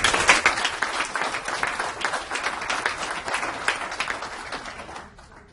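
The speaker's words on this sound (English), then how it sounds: "So if we could give him a round of applause." An audience at a business talk breaks into applause, a dense run of clapping that stays strong for about four seconds and then fades out.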